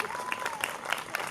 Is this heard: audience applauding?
yes